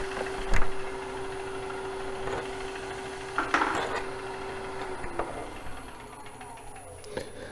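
A narrow skew chisel cutting a dovetail on the tenon of a wooden bowl spinning on a lathe, with a steady motor hum and tonal whine, scraping cuts, and several sharp knocks.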